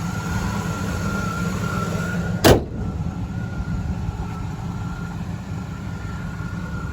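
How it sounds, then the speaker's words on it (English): A 1977 Pontiac Trans Am engine idles quietly and steadily with a low, even hum, broken once by a brief sharp knock partway through. "Listen to how quiet that motor is."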